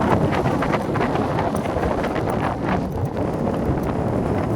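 Gusty beach wind at West Kirby, England, buffets the microphone with a steady rumbling roar, loud and close, with no voices.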